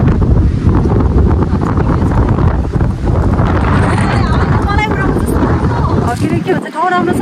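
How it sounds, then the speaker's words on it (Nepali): Strong gusting wind roars against the microphone at a hilltop park beside a temple in Dolakha, a loud, steady rush through the whole stretch, with people talking underneath. "हावाले यहाँ बसिसक्नु छैन"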